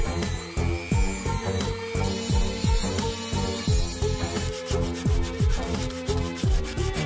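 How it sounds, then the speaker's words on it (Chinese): Excess TIG weld on the chipped tip of a WWII 98k bayonet blade is ground away, giving close, scratchy abrasive strokes in uneven bursts with brief whining passes, over rhythmic background music. "等修补完之后，同样需要将多余的焊料打磨干净"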